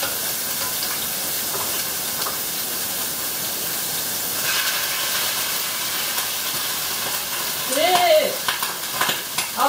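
Steady loud sizzling and hissing of meat frying in a pan, continuous throughout, with a few brief clatters and faint vocal sounds near the end.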